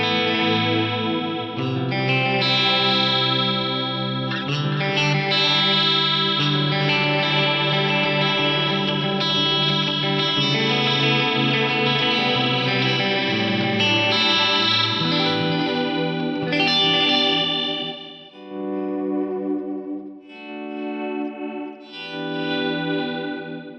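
Layered, sustained instrument tones run through an Eventide Eclipse pan delay effect, with repeats smearing into a dense, chorus-like wash that stays loud and steady before breaking into shorter, separated phrases near the end.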